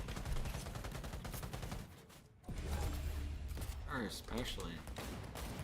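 Gunfire rings out in the video game Cyberpunk as rapid bursts of shots with mechanical clatter, briefly cutting out midway before resuming. Voices talk over the shooting.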